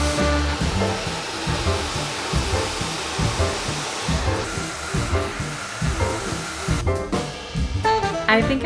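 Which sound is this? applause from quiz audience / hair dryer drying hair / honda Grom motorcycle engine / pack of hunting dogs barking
hair dryer drying hair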